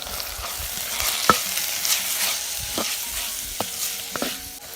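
Tomato with red chilli powder, Kashmiri powder and garam masala being stirred and sautéed for a shrimp curry, a steady sizzle broken by several sharp spoon scrapes against the pan, close and alone.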